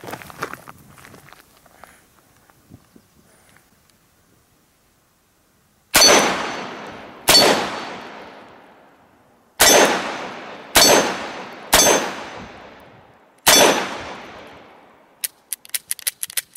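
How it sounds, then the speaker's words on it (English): Six loud, sharp shots from a Dan Wesson 715 .357 Magnum revolver fired offhand, each ringing against a steel Evil Roy target with a decaying clang, spaced a second or two apart, then a few quick lighter clicks. "this time I'm going to shoot offhand at the Evil Roy"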